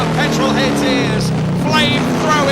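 A racing car in a 2009 European Le Mans Series race roars past with a loud rising and falling engine note, heard under excited commentary.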